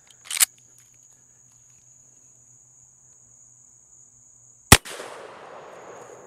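A Henry Axe .410 fires a slug into ballistic gel outdoors, one sharp loud report followed by a fading echo, with a sharp click earlier and a steady insect chirp underneath.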